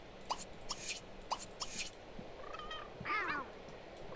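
A cat in The Sims 2 gives a couple of short, bright meows in the second half, after a few sharp clicks, over a quiet game background with no talking.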